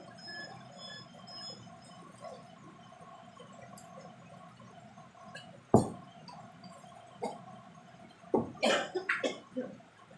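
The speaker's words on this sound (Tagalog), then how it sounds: "Naubo kasi ako" A person coughing while eating a meal with rice, a sharp single cough in the middle and a cluster of rougher coughs toward the end, close to the mic over faint background clinks.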